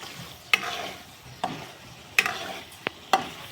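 Stuffed banana curry cooking in a pan, with a few sharp stirring scrapes and clanks spaced about a second apart over a soft, low background hiss.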